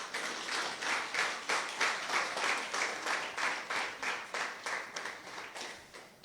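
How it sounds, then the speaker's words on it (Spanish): Church congregation applauding in rhythmic unison, about sixteen evenly spaced pulses of group clapping at a steady tempo, fairly quiet and distant, with no talk over it. "¿Podemos darle un aplauso al Señor,"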